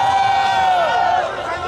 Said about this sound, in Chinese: 用你们掌声，直接叫声欢迎我们的 DJ